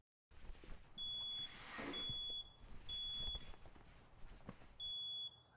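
A smoke alarm gives four sharp, high electronic beeps, each about half a second long and evenly spaced, moderately loud over a faint room hiss with no talking.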